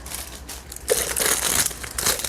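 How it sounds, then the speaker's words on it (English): Plastic packaging being opened close by, giving a steady run of crisp crinkling and crackling with brief louder crunches, no voices. "Excuse the crinkling noise"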